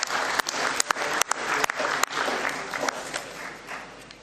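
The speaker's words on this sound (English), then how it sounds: "can we clap hands once more for Kamanga and the Finance Committee?" Audience at a football confederation general assembly applauds with steady, moderately loud clapping for about four seconds, with a few sharper individual claps standing out and no talk over it.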